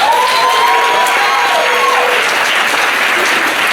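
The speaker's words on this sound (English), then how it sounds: "Let's give her a round of applause for that." Loud, dense applause from an audience at a university poetry reading, a continuous roar of clapping with some cheering mixed in and a brief whistle early on.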